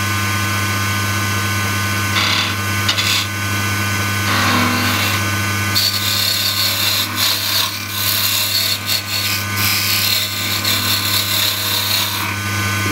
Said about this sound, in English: I'm going to use this half inch spindle gouge and just give it a slight shape rather than it just being a straight stem